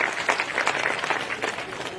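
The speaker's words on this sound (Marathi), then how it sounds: "त्याबद्दल सर्वांनी टाळ्या वाजवून यांचं स्वागत केलं पाहिजे" A rally crowd claps in welcome for candidates at a Naigaon municipal election campaign meeting, a dense burst of scattered hand claps lasting a couple of seconds at moderate distance.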